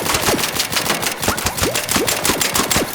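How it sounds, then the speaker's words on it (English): Rapid suppressed gunfire from the Burletta pistol in Arc Raiders, a fast, steady stream of muffled cracks, each shot sharp and close, running continuously with mechanical clacks between them. "I like just using suppressor because look how quiet this sounds"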